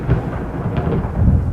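A stage production of King Lear plays a thunder effect, a loud, close, low rumble that rolls steadily for the whole short stretch with no voices.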